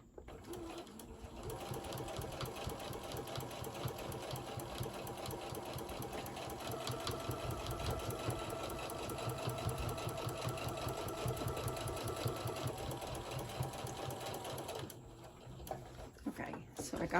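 A sewing machine runs steadily, stitching fabric for a decorative hot pad, its fast rattling needle rhythm close and continuous for most of the stretch before stopping near the end.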